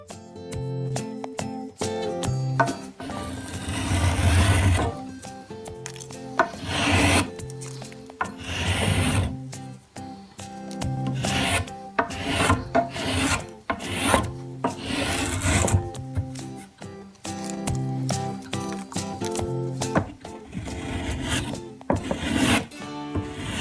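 A sharpened hand tool rasps and scrapes along a wooden walking stick, taking fine shavings in repeated strokes of varying length, close and fairly loud, with no talk.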